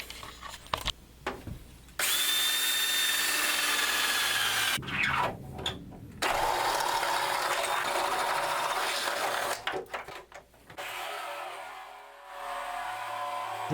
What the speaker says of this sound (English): we're gonna do the exact same thing I did in my other video and saw this thing in half